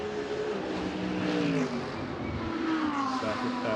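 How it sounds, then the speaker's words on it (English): A Lamborghini GT3 race car roars past at speed during practice at the Macau Grand Prix, its engine note steady and loud with a slight pitch drop, backed by a broad rushing noise. "Lin Kang's Lamborghini over the timing line"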